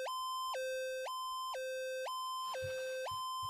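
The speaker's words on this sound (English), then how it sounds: "I hear the siren going off." An electronic two-tone siren on a car battery trap sounds in a steady repeating high-low wail, loud and close, with scattered rustling and thumps near the end.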